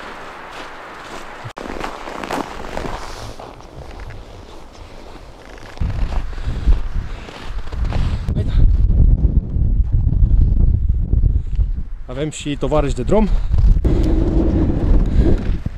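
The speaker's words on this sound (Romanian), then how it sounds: "bate vântul, este foarte, foarte frig" Wind gusts hard against the microphone outdoors at minus 8 degrees near Hotel Rarău in Bucovina, loud rumbling buffets that build and stay strong, with a person speaking briefly over them.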